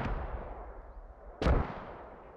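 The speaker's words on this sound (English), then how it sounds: "I hear the mortars landing over here" Mortar shells landing in the Squad military game, a distant fading boom at the start followed by one sharper, louder impact about halfway through, with no voices.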